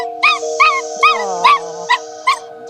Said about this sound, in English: The little pup's swollen joints are obviously painful, so Scott will now take her back to the prac